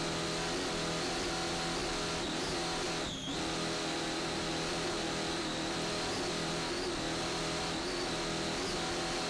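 Racing powerboat with twin 1,500 horsepower Sterling engines at a Key West world championship race, a loud continuous droning engine roar with a brief dip partway through.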